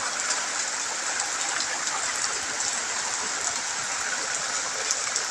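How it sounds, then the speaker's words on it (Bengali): Heavy rain falls around a village house in Barguna, Patharghata, a dense, even hiss of downpour with no breaks, fairly loud and close. "কি বৃষ্টি যে আমাদের বাড়িতে"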